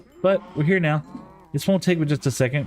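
Minecraft cows in a mob farm moo loudly several times in a row, their low drawn-out calls overlapping, while someone talks over them.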